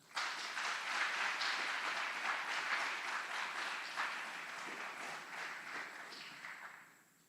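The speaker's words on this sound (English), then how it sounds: "Please join us in giving a round of applause to these outstanding drill sergeants and instructors" An audience at an Army aviation brigade graduation ceremony at Fort Eustis applauds drill sergeants and instructors, sustained crowd clapping filling the hall, steady and moderately loud before tapering off at the end.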